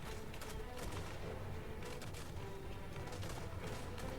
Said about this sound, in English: the mortar shots will now start. There we go, look. Started hitting now.